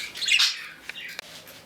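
Pet birds in a cage at home give a brief burst of bright, close chirps and tweets, followed by a few short, sharp calls.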